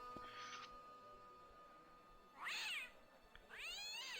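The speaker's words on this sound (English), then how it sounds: "Look at it. It's a kitty cat." A cat in the video game Broken Sword: Shadow of the Templars lets out two distinct meows, the second longer and wavering, against a quiet backdrop with a brief soft chirp earlier.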